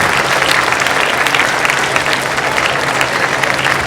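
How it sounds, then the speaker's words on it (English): A large audience at a closing ceremony applauds loudly and continuously, a thick, even roar of many hands with no pauses. "Clap for them."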